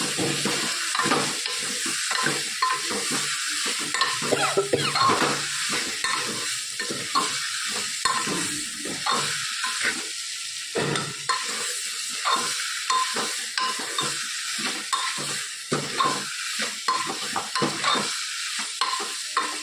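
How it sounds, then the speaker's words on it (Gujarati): A spoon scrapes and stirs a spice masala in a hot pan, with sizzling under rhythmic strokes repeating steadily at close range, no voices present. "બધું મિક્સ કરી દઈએ."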